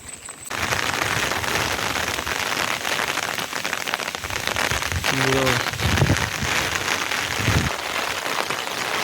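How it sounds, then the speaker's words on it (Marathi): Steady heavy rain pours down throughout at an outdoor bullock event in Konkan, a dense wash of drops drumming on surfaces, with faint voices and a brief whistle-like tone partway through. "पावसाची मोठी सर आली"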